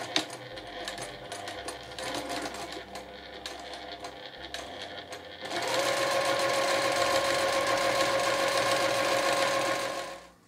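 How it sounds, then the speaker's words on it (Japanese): Sewing machine stitching a seam 7 mm from the fabric edge on a small pouch, first quieter handling and short runs, then a loud continuous rapid mechanical whir for several seconds that stops abruptly. "そしたら端から7ミリずつ縫っていきます。"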